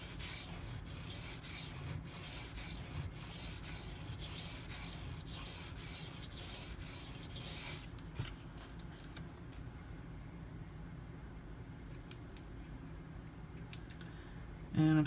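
A Benchmade Mini Ritter Grip knife blade drawn over a sharpening stone in repeated short, quiet rasping strokes, then a softer stretch of lighter scraping and small ticks, up close with no talk.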